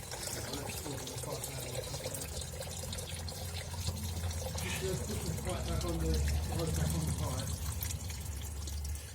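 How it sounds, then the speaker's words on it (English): Coolant water drains steadily from an MGF car engine during timing belt and water pump replacement, a continuous splashing trickle close by, with people talking over it. "Yeah, it'll be draining for a while."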